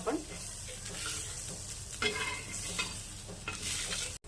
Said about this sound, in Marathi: आता आपण सगळं छान असं भाजून घेणार आहोत तेलात।